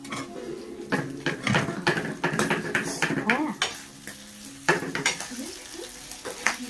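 Mutton thecha with green chillies being fried and stirred in a pan, a steady sizzle broken by repeated scraping and clanking of a spoon against the metal, close and busy throughout.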